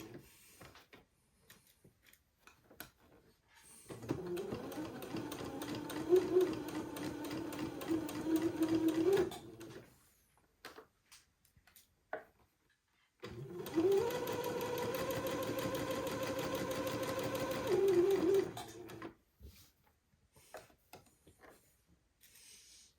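A home sewing machine stitches entredeux onto an uncut collar in two long steady runs of about five seconds each, a close continuous motor whir separated by quiet pauses with small handling clicks.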